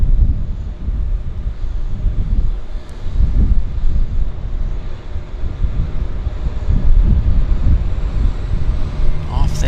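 Seaplane departing Vancouver harbour, its engine droning loudly in a steady, rising roar with wind buffeting the microphone; no one speaks.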